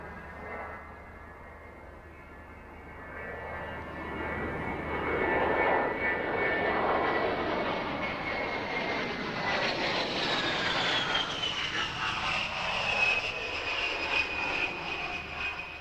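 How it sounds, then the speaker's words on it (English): An A-10 Warthog tank buster jet at the Mildenhall air show gives off a steady whining roar that builds and holds, with a high engine whine rising in pitch as it passes, fairly loud with no voices. "Another piece of American hardware on display at Mildenhall was the A-10 tank buster,"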